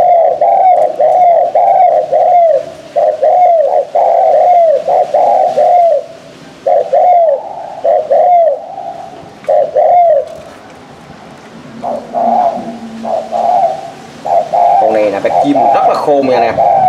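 Spotted doves coo repeatedly in close, rhythmic phrases, loud and near, with brief pauses between bursts and some faint background noise.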